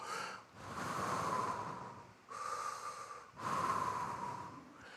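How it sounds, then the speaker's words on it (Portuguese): A man demonstrates breathing aloud as the sound of God's name during a church sermon: three long, breathy exhalations and inhalations, each about a second or two, close and soft, with no words spoken. "no original, o som mais próximo do nome de Deus é o barulho da respiração"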